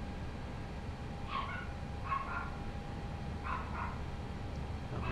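A dog barking somewhere nearby in a room, three short bursts of barks spaced a second or two apart, fairly faint over a steady background hum, with no talking.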